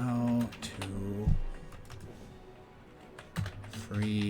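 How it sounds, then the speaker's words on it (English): Keys clatter on a computer keyboard in quick irregular bursts, close and fairly crisp, while a person talks over parts of it during a Baldur's Gate 3 play session. "Typing past my microphone is a little awkward."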